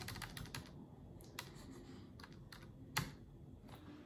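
A website domain name is typed on a computer keyboard as a quick, close run of light key clicks, busy at first and then sparser, with one firmer tap near the end.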